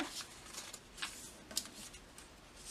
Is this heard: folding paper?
yes